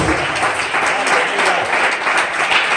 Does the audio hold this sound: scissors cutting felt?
no